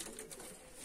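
Tumbler pigeons coo softly in a short, steady burst, a low murmuring tone close by with no talk over it.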